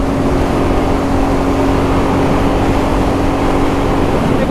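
Royal Enfield Classic 350 motorcycle cruising at close to 100 km/h, a loud, steady engine drone with constant wind rush, unbroken throughout with no voices.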